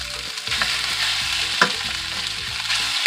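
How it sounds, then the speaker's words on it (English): Marinated beef stir-fries in a pan for a beef and tomato dish, with a constant close sizzle broken by brief scraping and clinking as the meat is stirred. "Now the next thing that we will put is our marinated beef."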